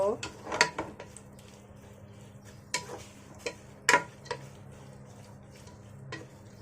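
Sliced onions are stirred in a pan while frying into crispy beresta for kacchi biryani, heard as scattered close scrapes and sharp clinks over a low, faint background hum.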